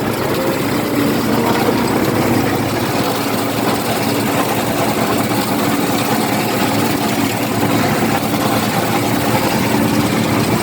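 A farm machine's engine runs steadily in first gear, a constant loud rumbling drone with a low throb, close by and unbroken for the whole stretch, with no voices.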